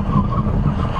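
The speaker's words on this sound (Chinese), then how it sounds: "在整个刹车过程中，我们听到这个刹车踏板车的底盘传来那种很频繁的哒哒哒哒那种声" A car brakes hard from 40 km/h in an emergency stop, the ABS chattering through the chassis as a steady, loud rumbling skid with a continuous tire-on-road roar for the whole second.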